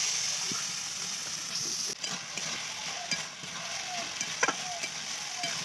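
Cabbage frying and being stirred in a pan, a steady broadband sizzle with occasional scraping clicks of a spatula, close and fairly quiet, with no talking.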